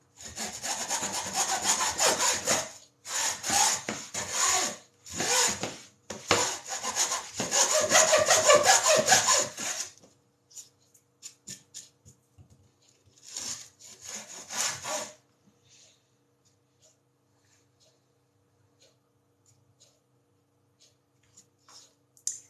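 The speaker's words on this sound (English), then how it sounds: "This is quite hard to saw on the top of this worktop." A hand saw cuts wood for a picture frame on an unclamped kitchen worktop: several long runs of loud, rhythmic rasping strokes, then a pause, a shorter burst of sawing and quiet light knocks.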